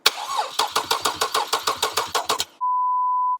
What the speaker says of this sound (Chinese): 先让发动机空转一下。